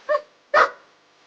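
A dog gives two sharp, close barks about half a second apart, heard alone against silence as a sound effect in a narrated Mexican legend from Guanajuato.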